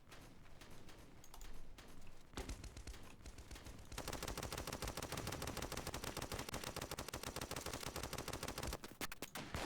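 Gunfire in the shooter game Kuboom: scattered shots at first, then a long, loud, rapid automatic burst with dense repeating cracks that stops abruptly near the end.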